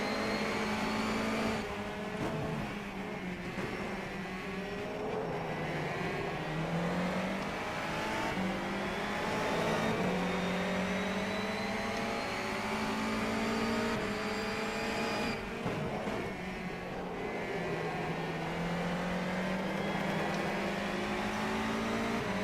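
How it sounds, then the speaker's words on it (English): Race cars in the rFactor 2 sim on a Fantasy NGTC touring-car round, engines droning loud and steady with rising and falling pitch as they accelerate and shift, several cars close together, no talk. "Next up is Blake Martin in the Aer Lingus car."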